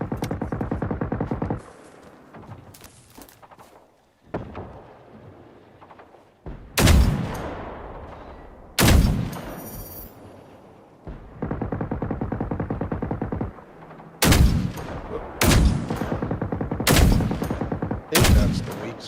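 Heavy weapon blasts in the Generation Zero video game, a rocket launcher firing several loud, sharp booms in irregular bursts, each trailing a short rumble, with quieter stretches of lower noise between them.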